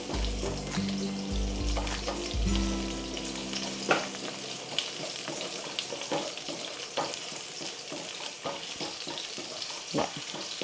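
Ginger sautés in a pan for salmon sinigang, a close, busy sizzle with scattered crackles and spatters, while a low tonal hum drones beneath the first few seconds.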